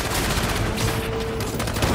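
Gunfire crackles in dense, rapid bursts during combat in Marvel's Spider-Man 2, a loud continuous fusillade layered with battle noise and a faint tonal hum.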